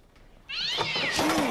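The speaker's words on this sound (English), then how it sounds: "It was just a cat." A cat lets out a loud, drawn-out meow that starts abruptly after a brief quiet moment, close by and wavering in pitch, in an episode of the TV series Community.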